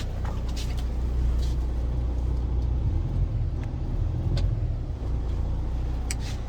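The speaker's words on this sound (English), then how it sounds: "Look, my truck trying to turn off on me." A truck engine idles roughly and unevenly, as if struggling and close to stalling, with a steady low rumble throughout and a few brief sputters.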